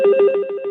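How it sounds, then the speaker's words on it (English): Mobile phone rings during a township sewer commission meeting, a loud, close electronic ringtone of rapid repeated pulsing tones, heard alone. "my phone's ringing"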